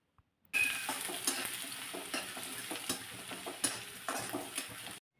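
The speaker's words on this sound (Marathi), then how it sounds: "थोडासा लालसर कलर होईपर्यंत कांदा परतून घेतलेला आहे" Finely chopped onion sautéed in a pan until reddish, a steady close sizzle and frying hiss with repeated stirring scrapes, running alone for about four and a half seconds before stopping.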